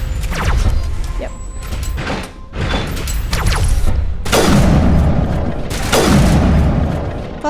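Heavy booming weapon fire and crashing impacts from turrets in the video game Mass Effect, loud bursts arriving in irregular waves with mechanical clatter between them and no talking.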